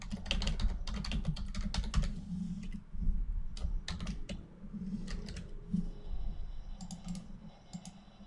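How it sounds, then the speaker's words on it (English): Rapid bursts of clicky typing on a computer keyboard, close and fairly quiet, with short pauses between runs of keystrokes and no talking. "I need to type in a little bit more longer description."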